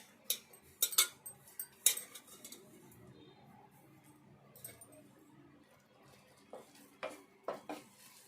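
Grated coconut is stirred into a mixture in a bowl, giving soft scraping and a few sharp clinks of a spoon against the bowl, close and fairly quiet, in irregular bursts.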